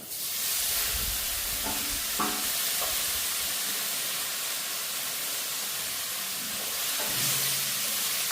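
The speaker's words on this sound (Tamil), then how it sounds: "வெங்காயம் வதங்கிட்டு கோவாவும் முருங்கையிலையும் போட்டு தான் வறுக்கிறோம்" Onion, kohlrabi and drumstick leaves fry in a pan with a steady, close sizzle and hiss throughout, broken by a few soft stirring scrapes, with no talking.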